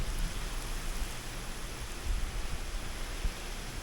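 Steady rain during a tropical storm in Florida, a soft continuous hiss of falling water heard from indoors, fairly faint with occasional low thumps and no voices.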